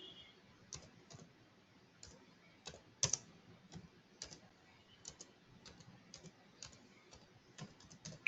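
Quiet, close clicking of fingers typing on a computer keyboard, irregular keystrokes and short bursts with one sharper tap, in a hushed room with no talk.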